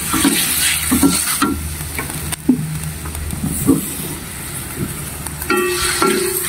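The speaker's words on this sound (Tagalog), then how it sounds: "Halo-haloin hanggang sa mag-change ang kulay niya bago natin lagyan ng dark sauce." Chicken stir-fries in a hot pan, sizzling continuously under repeated scraping, clacking strokes of a utensil against the pan in an irregular rhythm, close and fairly loud.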